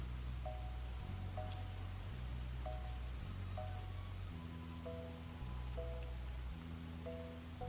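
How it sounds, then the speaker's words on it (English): Steady relaxing rain falls on a surface, a constant soft patter under a gentle repeating melody, with no voices. "I listen to relaxing rain sounds and relaxing music"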